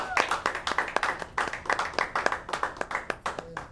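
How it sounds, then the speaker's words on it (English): Audience clapping in bursts at a local evening talk show in El Monte, with a steady run of sharp hand claps lasting several seconds and cheering voices mixed in. "A round of applause for that,"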